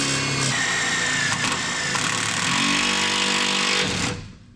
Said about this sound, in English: Well, we'll see how good a drill bits these have on them.